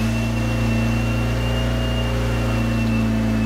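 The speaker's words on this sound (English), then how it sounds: "But when you start the engine" Engine of a Lotus Elan M100 running with a steady, droning hum and whine, loud and close, holding an even pitch throughout with no voices present.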